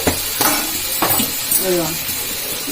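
Tomatoes dropped into hot oil already used to fry chillies and tamarind, giving a close sizzle with a few stirring scrapes and clinks of a utensil against the pan.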